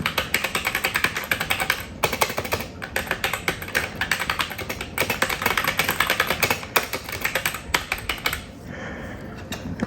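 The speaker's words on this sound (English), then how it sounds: "Just start typing away." Rapid, continuous key clatter from a Bluetooth keyboard paired with a vintage Mac, typed into a text editor at close range, with brief pauses between bursts and no voices.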